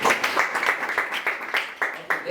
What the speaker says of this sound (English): Clap for them once again.